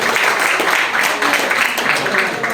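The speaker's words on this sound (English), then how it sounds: "can we please give a big round of applause to Imam Ahmed Ali" Audience applause for a community imam at a celebration event, a steady broadband wash of clapping filling the whole stretch at moderate loudness, with a faint murmur of voices mixed in.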